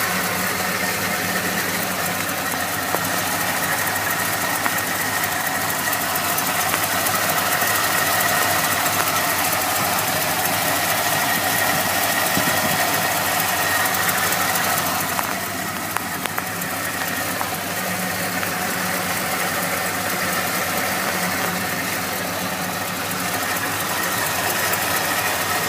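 A 1986 Chevy 4x4 Crew Cab engine after a tune-up, with an aluminum water pump, idling rough: a steady, loud, close mechanical drone with uneven knocking pulses that runs throughout without a break.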